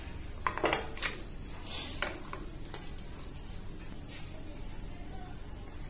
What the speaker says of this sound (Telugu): ఈ పప్పు అంతా కూడా ఇందులో ఈ పేస్ట్ అంతా పప్పు పేస్ట్ వేసుకుందాము